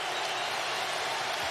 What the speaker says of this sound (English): Crowd deafening now.